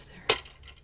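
A single sharp clink as an ice cube is lifted from ice water in a kitchen, brief and close, followed by faint quiet.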